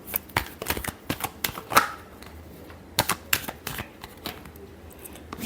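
Tarot cards are shuffled in quick, irregular bursts of crisp riffling and snapping, close and clear against a quiet room.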